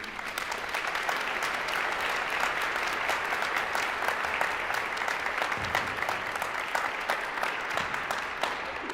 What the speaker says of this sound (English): I hope you would applaud them as well.